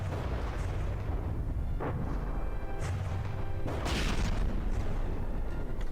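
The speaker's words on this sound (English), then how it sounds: "More bombs popping in here." Bombs exploding in the video game From the Depths: a constant low rumbling roar broken by sharp crashing blasts, with a bigger burst near the end.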